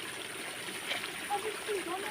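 Laundry being hand-washed and rinsed under three running taps outdoors, a steady splash and trickle of water with a person talking over it.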